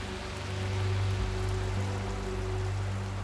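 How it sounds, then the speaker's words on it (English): Heavy rain pours down in a steady, dense wash of broadband noise during a freak storm over Las Vegas, with a low hum running beneath it throughout. "freak rains beat down on Las Vegas"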